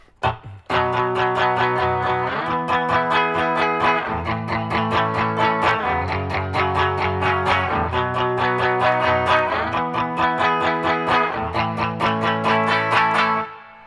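Overdriven electric guitar strums steady, ringing chords in a repeating rhythm, the bridge of a song, shifting chord shapes every couple of seconds, loud and alone.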